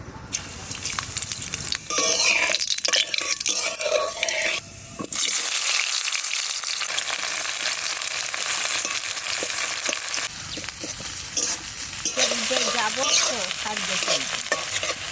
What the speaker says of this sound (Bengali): ফোড়না দেব কালো জিরে